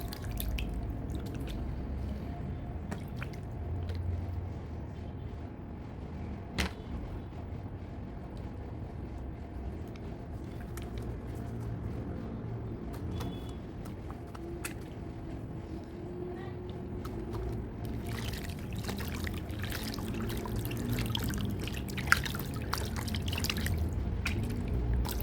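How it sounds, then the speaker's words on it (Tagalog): Water drips and splashes as a face is rinsed after a face mask, with irregular close trickles and patters and a few sharper splashes continuing throughout. "Maghuhugas naman po tayo ng ating mukha."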